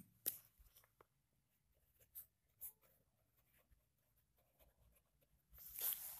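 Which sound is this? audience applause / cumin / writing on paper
writing on paper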